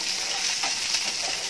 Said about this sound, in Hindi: काश्मीरी चिल्ली थोड़ी फ्राई करेंगे